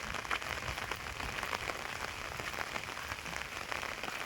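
Steady monsoon rain in Konkan falling on a hard surface, dense pattering drops throughout with no voices, close and fairly loud.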